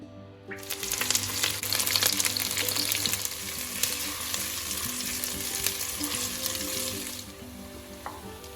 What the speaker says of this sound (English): While the onion is frying, I will be frying my steak, my beef in the skillet.